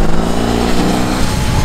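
A BMW R18 big boxer motorcycle engine runs right at the microphone with a loud, dense, steady rumble and no voices over it.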